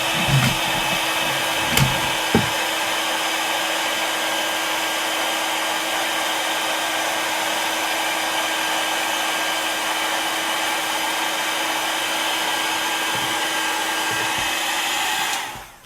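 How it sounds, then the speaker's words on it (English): A heat gun blowing hot air onto a herb stencil for wall decor, a steady loud fan roar held for about fifteen seconds, with a few small clicks and handling noises at the start before it cuts off. "I'm going to hit it with the heat gun"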